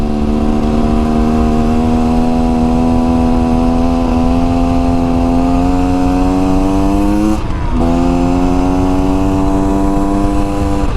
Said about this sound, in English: you hear how this thing lugs and pulls out